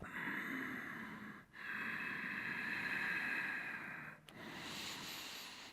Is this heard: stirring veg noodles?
no